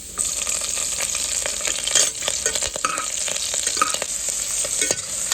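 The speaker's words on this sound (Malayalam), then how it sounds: "അതിലേക്ക് നമുക്ക് വെളുത്തുള്ളിയും ഇഞ്ചിയും ചോപ്പ് ചെയ്തത് ഇട്ട് കൊടുക്കാം ഇട്ട് കൊടുത്ത ശേഷം നന്നായിട്ട് ഇളക്കി കൊടുക്കാം" Garlic, ginger and green chillies stir-fry in a hot pan with steady, close sizzling and a spatula scraping and clinking against the metal throughout, with no voices.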